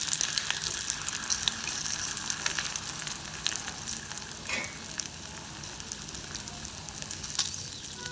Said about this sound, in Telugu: 2 పచ్చిమిర్చి, 1 ఎండుమిరపకాయ వేసుకొని కొంచెం కరివేపాకు యాడ్ చేసుకోండి.